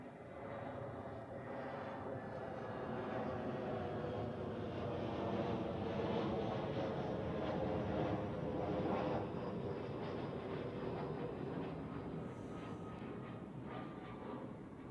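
An Airbus A320 airliner landing on runway 14 at Zurich Airport gives a steady, loud, broadband engine roar with a sustained rushing hiss that swells slightly mid-pass and holds throughout, with no voices.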